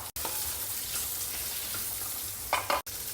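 Urad dal and chopped pumpkin pieces frying in a pan, giving a steady close hiss of sizzling oil with a few brief scraping stirs, continuous and fairly loud with no talking.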